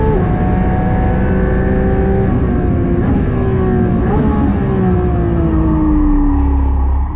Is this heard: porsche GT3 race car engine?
yes